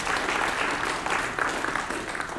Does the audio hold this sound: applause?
yes